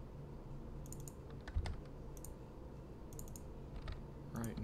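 Keys clatter on a computer keyboard during PC gameplay, a quiet steady run of taps and clicks in small bursts over a low background hum, with no talking.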